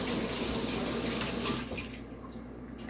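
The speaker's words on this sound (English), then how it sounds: "Wash my hands." Tap water runs steadily into a sink while hands are rinsed of mashed banana in a home kitchen during banana bread baking, the flow continuous and fairly loud, then dropping to a quieter trickle near the end.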